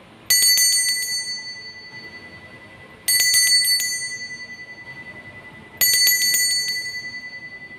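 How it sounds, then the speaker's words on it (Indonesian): Three bursts of rapid bell rings, each a quick cluster of bright metallic strikes that hang and fade, spaced about every three seconds. "Kita akan memulai dengan ditandai lonceng berbunyi."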